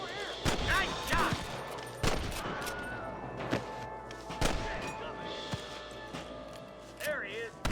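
Gunfire in the Western video game Red Dead Redemption, with repeated loud shots and a clang over a steady game soundscape, while voices talk throughout.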